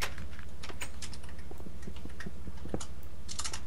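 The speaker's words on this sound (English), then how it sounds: "He's typing something." Rapid, uneven keystrokes on a computer keyboard, heard up close during a Minecraft Tekkit session with a steady low hum underneath and no talking.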